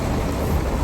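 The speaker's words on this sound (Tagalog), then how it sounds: "Lakas ng ulan!" Heavy rain pours down during Typhoon Hagibis, a dense and steady roar of water that fills the scene with no voices.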